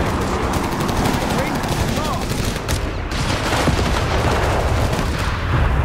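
A machine gun in Company of Heroes 3 hammers out loud, sustained bursts amid a busy battlefield with booming fire in the background, while a player talks over the din.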